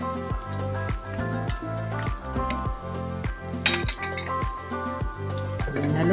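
Spatula clinking against a pan in a steady rhythm of about eight even taps while onions and egg are stirred, with a faint sizzle underneath.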